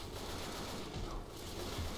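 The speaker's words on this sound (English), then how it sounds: "Explosions and fire." Explosions and gunfire rattle through a Left 4 Dead 2 zombie fight, a dense, noisy rumble with bursts of shots, fairly quiet and continuous over two seconds.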